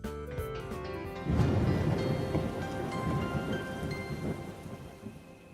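Steady rain pours down in a dense, continuous wash, with a rumble of thunder beneath it and no voices.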